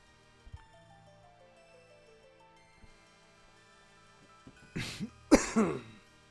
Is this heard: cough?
yes